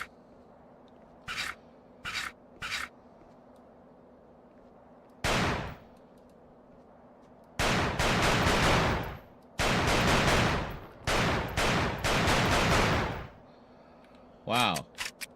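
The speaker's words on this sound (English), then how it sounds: "I don't know how the hell those sniper shots were missing" Video game gunfire with sniper shots: a few short isolated cracks, then long sustained bursts of rapid automatic fire and a final quick volley, loud and close, with a voice speaking at times.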